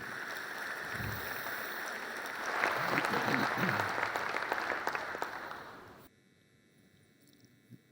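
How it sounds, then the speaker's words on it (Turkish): A crowd applauds amateur athletes at a Galatasaray club gathering, clapping swelling louder after a few seconds and staying dense until it cuts off abruptly, followed by near silence; a brief voice is heard early on. "Değerli Hazırın güzel bir alkışı da bu amatör sporcularımızın için istiyorum"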